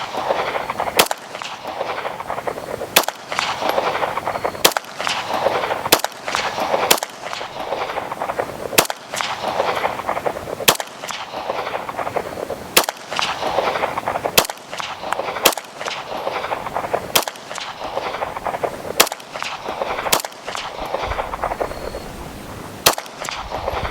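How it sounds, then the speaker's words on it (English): A Tisas B9R DS 2011-style pistol fires single shots at a steady pace at an outdoor range from 25 yards, each report sharp and loud, with about a dozen and a half shots spaced a second or two apart. "I'm going to step back to 25 yards to confirm my zero"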